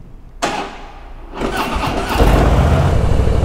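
A motorcycle starts up for a short neighbourhood ride in Bengaluru: a brief crank, then the engine catches and settles into a rough, loud, close rumble that grows steadier over a few seconds.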